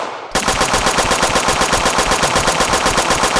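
Rapid automatic gunfire in a video game bursts in after a brief quiet moment and then keeps going as a loud, steady, fast rattle of shots with no talking over it.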